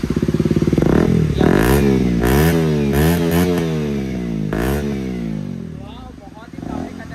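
A KTM RC 125 motorcycle fitted with an Akrapovic exhaust revs hard and close, its engine note climbing and falling in repeated sharp blips, with voices faintly underneath.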